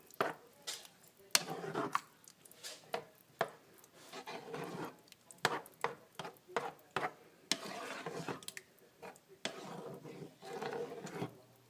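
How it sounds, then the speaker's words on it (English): Chili beans being stirred into a pot of chili, with soft scraping and clinking spoon strokes in an uneven rhythm, fairly quiet and close, continuing for several seconds. "Stir it, mix it all together."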